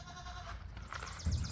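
Goats bleat inside a farm barn, a faint, brief call rising from the quiet, with a slightly louder bleat at the end.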